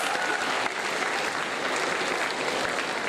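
Sustained audience applause fills a conference consultation hall, a dense steady wash of many hands clapping at even loudness with no speech over it.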